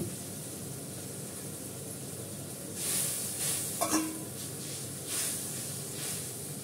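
Fish sizzles and simmers in a pan with a little water added, giving a faint, steady hiss. A few brief, louder spits and crackles rise above it now and then.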